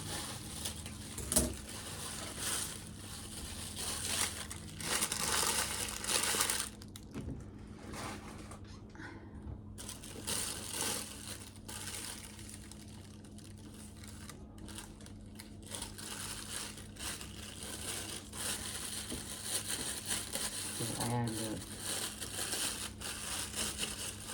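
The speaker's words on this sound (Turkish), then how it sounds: "Şu poşetin keseyim şöyle." A plastic bag being cut and crinkled in a home kitchen while making içli köfte, with close, rustling crunches and crackles in uneven bursts that continue at a moderate level throughout.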